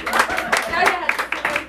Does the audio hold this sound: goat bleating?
no